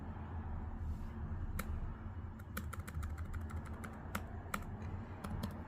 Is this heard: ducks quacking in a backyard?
no